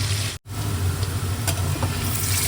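Potatoes seasoned with salt and turmeric frying in hot oil until reddened, giving a steady close sizzle with a few faint clinks and one very brief dropout, no talking.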